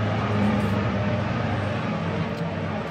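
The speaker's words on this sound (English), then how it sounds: "pardon the helicopter" Steady, broad rumbling drone with a low throbbing hum, like a helicopter passing overhead, continuous and fairly loud throughout.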